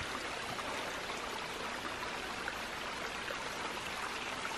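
A small stream crosses an Appalachian Trail path, babbling and trickling in a steady, close rush of water with no voices.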